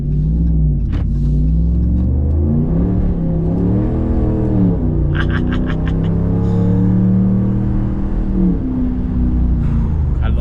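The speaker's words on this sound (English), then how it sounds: "Sound of that Hemi." A 2019 Ram Rebel's Hemi V8 runs with a loud, steady, deep rumble that rises and falls in pitch through a few gentle revs, close to the truck, with a faint voice at moments.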